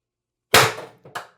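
A single sharp crack from a Beeman BP50 air pistol with HD24 tuning firing an 8.3 g steel ball, followed by a softer metallic click and a second quick snap, close and isolated.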